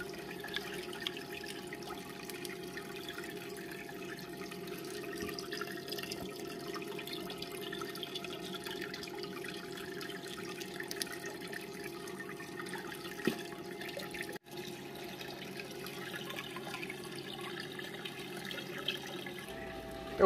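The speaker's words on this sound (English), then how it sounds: "we've rinsed out the container." Water runs steadily while a container is rinsed out at a sink, a continuous close hiss and splash with no pauses and no speech.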